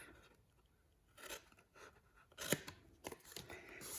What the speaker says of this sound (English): And I'm going to go ahead and cut that off.